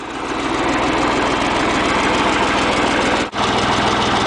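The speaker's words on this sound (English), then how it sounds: "Okay, so here's our John Deere tractor powered on." A John Deere tractor fitted with a custom snowplow idles close by, a loud, steady low throb of rapid even pulses with a brief dip near the end.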